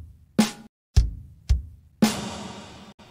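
Sparse programmed drums in FL Studio for a depressive black metal song: punchy kick and snare hits in a slow pattern, the last snare ringing out with a long reverb tail.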